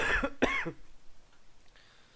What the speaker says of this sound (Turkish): Öksürük bu bir şey olmaz